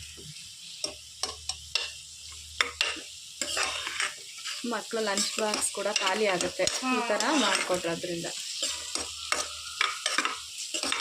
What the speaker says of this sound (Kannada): ಇನ್ನೊಂದು ಕಡೆ ಇಲ್ಲಿ ಒಗ್ಗರಣೆ ಹಾಕೊಂತಿರ್ತೀವಿ